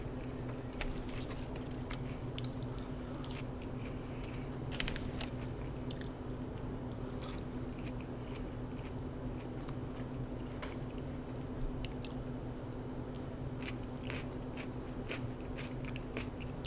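Chewing of roasted vegetables and sausage, soft repeated bites and squishy mastication over a steady low background hum, close to the mic with no talking.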